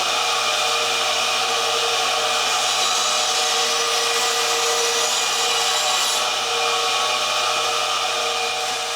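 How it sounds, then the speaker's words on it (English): Bandsaw trimming a wooden SG-style neck-through guitar neck blank, a loud, continuous whirring hum with steady cutting noise, no pauses, no voices. "And we'll do that on the bandsaw."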